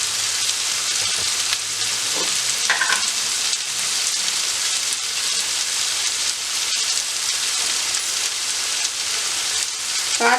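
Onions sauté with fennel seeds in a pan, giving a steady close sizzle and crackle throughout with occasional faint stirring clinks and no talking.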